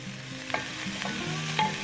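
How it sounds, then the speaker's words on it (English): Diced bacon frying in a pan as its fat renders, a steady low sizzle with a few sharper pops and the scrape of stirring, close up and with no talk. "We're going to start with a couple of diced up pieces of bacon. I'm going to render the fat from that bacon"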